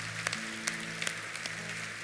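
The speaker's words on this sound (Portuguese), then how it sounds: "Podemos aplaudir o Rei dos Reis" Audience in a church auditorium clapping during a service, soft steady applause with a few sharper claps standing out above a low sustained organ-like tone, fairly quiet and distant.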